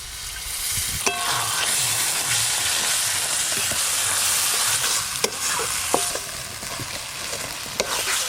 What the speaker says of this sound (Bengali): অল্প একটু মশলাতে জল দিয়ে খুব ভালো করে কষবো